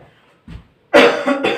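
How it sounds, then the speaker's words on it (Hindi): Two harsh coughs, close and loud, the second shorter, preceded by a faint short breath. "थोड़ा सा खांसी हो गया है।"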